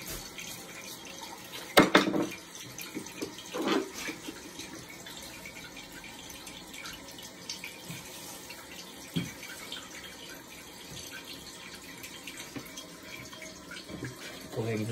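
Water rushes into a newly installed toilet tank, making a steady hissing fill sound. A few clunks and taps come from handling parts nearby.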